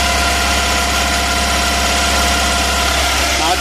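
A Tata Ace HT Plus BS6 diesel engine runs steadily at raised idle during DPF regeneration, a loud, close, continuous droning hum with constant vibration and no change in pace.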